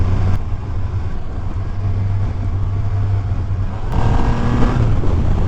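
A 2021 Triumph Rocket 3 GT motorcycle engine pulls hard on the road in Southern California, a deep, constant drone with wind rush that swells louder near the end.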